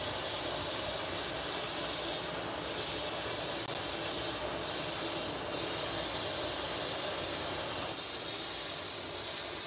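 An airbrush spray gun lays candy paint over pink in steady, close bursts of loud airy hiss, swelling slightly in a few pulses, with no voices.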